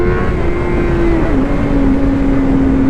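A 600cc motorcycle out on a ride, its engine droning loud and steady with a pitch that dips slightly as it shifts, under heavy rushing wind noise.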